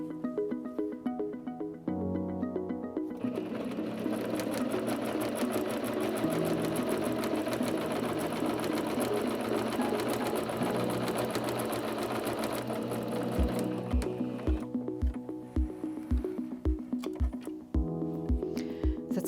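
A Singer C5205 sewing machine stitches a narrow zigzag about 2 mm wide, a steady close whirring hum with rapid rhythmic needle clatter that runs continuously, then slows into a few distinct thumps before stopping.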